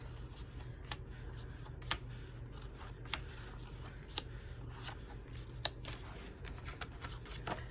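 Paper journaling cards from a paper pack are handled and shuffled up close, giving soft continuous rustling with a few sharp, evenly spaced flicks and taps, quiet overall.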